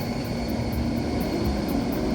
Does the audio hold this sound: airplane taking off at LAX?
yes